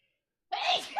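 A single abrupt, close human sneeze bursts out after half a second of silence, breathy and loud, with a short trailing exhale.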